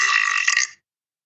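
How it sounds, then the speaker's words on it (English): One loud, obnoxious burp, drawn out for most of a second with a raspy, buzzing tone, close and alone before it cuts off abruptly into silence. "that's burp wave 1"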